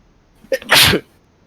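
A single loud, close sneeze: a quick sharp intake followed by a burst of explosive breath, then silence.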